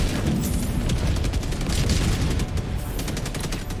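Airstrike explosions rumble in Helldivers 2, a dense rapid barrage of booming blasts that overlap into a continuous heavy roll, loud and close for several seconds.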